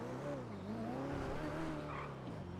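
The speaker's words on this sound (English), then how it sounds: "my engine is something severely wrong with it. As you can hear it." Faulty, struggling car engine in GTA V NoPixel roleplay, a steady uneven droning hum with wavering pitch, continuous and fairly faint.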